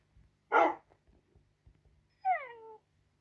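Animal cries from a Minecraft game, tagged as a dog yelp or cat-like meow: a short burst near the start, then a gliding, pitched whine later, each alone against a quiet background with faint low sounds.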